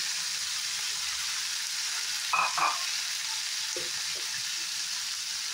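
Chopped tomato, onion, green chilli, ginger and capsicum fry in a pan with a steady hissing sizzle and a couple of brief stirring clatters; no one speaks.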